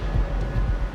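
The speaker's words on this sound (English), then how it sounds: "the engineers separate the locomotive from the front end of the train" A locomotive on the Maharajas' Express rumbles deep and steady on the tracks. The low, continuous roar with some wind noise stays close and loud throughout.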